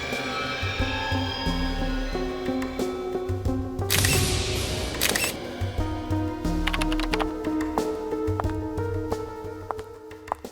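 Camera shutter clicks photographing a bite mark on a hand in a crime-drama investigation scene, several quick sharp clicks over steady background music with a brief loud noisy burst midway.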